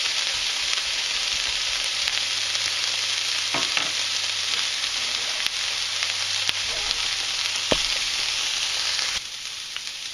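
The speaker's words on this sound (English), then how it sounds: "we'll keep this going for quite a while, stir it every once in a while" Onions frying steadily in a pan, a dense, even sizzle that runs throughout with occasional faint stirring clicks, close and continuous, easing slightly at the very end.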